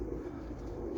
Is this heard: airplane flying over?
no